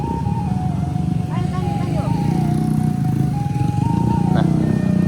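Automatic scooter engine droning steadily while riding a rough, rutted road, with a whining tone, rattles and bumps, and a voice talking over it at times.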